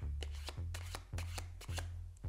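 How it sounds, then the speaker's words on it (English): An overhand shuffle of a deck of playing cards during a magic trick, close and clear, in four quick bursts of riffling card slaps separated by short pauses, with no voices. "The overhand shuffle looks like this."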